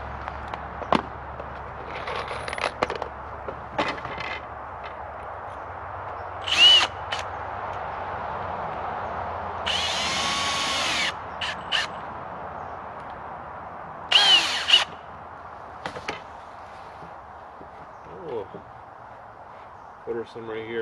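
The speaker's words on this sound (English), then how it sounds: "Run some screws in here first" Power drill driving screws into a 2x6 board for a low-cost firewood rack, several loud close bursts of whirring separated by pauses, with knocks and handling noise between.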